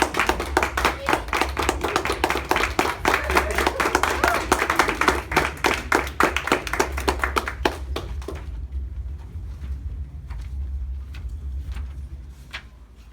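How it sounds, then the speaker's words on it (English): Loud crowd applause at a Toastmasters speakers' club meeting, dense rapid clapping for about eight seconds, then fading to a few scattered claps and quieter room noise. "a round of applause for Derek."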